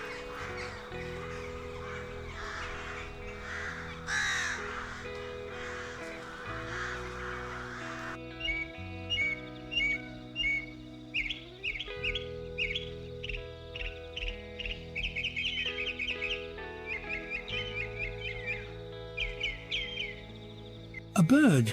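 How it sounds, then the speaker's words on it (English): Harsh, crow-like caws repeat in a steady series of short calls over a dramatic musical score, with a narrator's voice over the first part. "A bird calls out its claim, warning all others to keep their distance."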